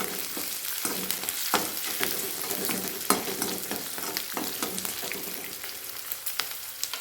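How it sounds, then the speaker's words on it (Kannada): Green chillies fry in hot oil for vermicelli upma, giving a steady close sizzle with occasional sharp crackles and pops, and no one talking. "ಸ್ವಲ್ಪ ಮೆಣಸಿನ್ಕಾಯಿನ ಎಣ್ಣೆಯಲ್ಲೇ ಫ್ರೈ ಮಾಡ್ಕೊಳ್ಳಿ"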